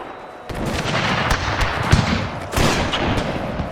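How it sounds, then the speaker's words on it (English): Howitzer artillery fire in the Total War: Pike and Shot battle game, heavy booming shots rolling over a dense battlefield din, with a sharp blast near the middle and another surge of firing toward the end. "Getting fired up right in the back by our own howitzers"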